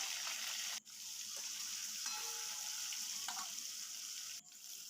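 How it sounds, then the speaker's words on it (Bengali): Rohu fish fry in hot mustard oil in a wok, giving a loud, continuous sizzle that cuts out briefly twice. No voices are heard. "কড়াইয়ে সরিষার তেল দিয়ে তেল গরম হয়ে গেলে এবার আমি মাছগুলো ভেজে নেব।"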